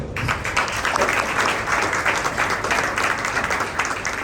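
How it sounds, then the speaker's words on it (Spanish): An audience applauds at the presentation of an environmental report, steady crowd clapping with a quick onset that holds at an even, moderately loud level throughout. "un aplauso también para ustedes"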